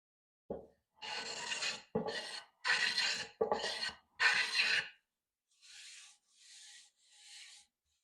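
Hand plane taking strokes across the grain of a wooden board, five loud close rasping passes in a row followed by three softer, lighter strokes, each one separated by brief silence.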